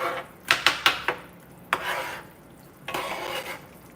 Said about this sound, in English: Now we're adding the okra.